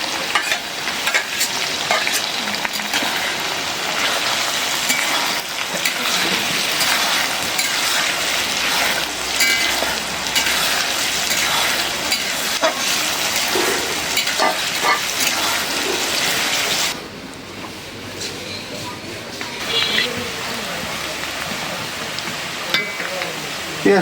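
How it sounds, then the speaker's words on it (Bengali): Pangas fish frying with onion and green chili in plenty of oil, a loud dense sizzle with stirring that eases off partway through. "মাছটা প্রায় ভাজা হয়ে গেছে"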